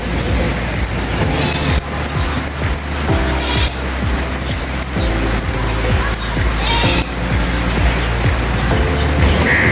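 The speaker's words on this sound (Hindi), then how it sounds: "बारिश तेज़ शुरू हो गई है, देख सकते हैं आप" Heavy rain pours in Karachi as a dense, steady roar, loud and close, with scattered drips and splashes. Someone talks over it throughout.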